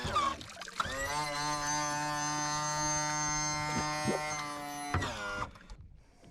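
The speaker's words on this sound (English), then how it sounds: "DB Electrical power trim and tilt pump that I put in" A DB Electrical power trim and tilt pump motor on a Yamaha outboard runs for about four seconds with a steady, strongly tonal electric whine, starting and stopping abruptly, close up with no voices.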